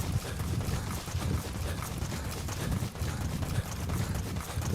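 Horse hooves clip-clopping steadily in Metal Gear Solid V: The Phantom Pain, a continuous rhythmic trot at close range with no talk over it.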